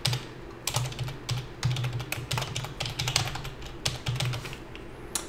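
Fast, irregular clicking of keys on a computer keyboard, close up, in short runs separated by brief pauses, with no talking.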